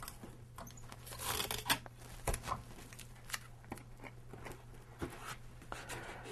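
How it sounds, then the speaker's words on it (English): Duct tape being torn and pressed into place over a poked hole: quiet ripping and rubbing, a few sharp tearing bursts and scattered crinkles against a low steady hum, with no talking. "we're going to go ahead and tape this in place as such."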